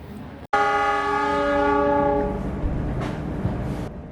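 A loud, sustained train horn blasts for about two seconds after a sharp start as the Ranggajati train departs Surabaya Gubeng station, then fades into the low rumble of the train.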